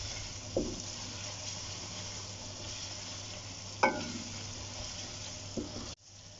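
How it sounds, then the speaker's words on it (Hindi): A steady, quiet sizzle of spices with red chili frying in a pan, with a few soft clinks of a utensil stirring, ending abruptly. "मसालों को अच्छे तरीके से भूनना है ताकि इसमें जो लाल मिर्च है वो कच्ची ना रह जाए।"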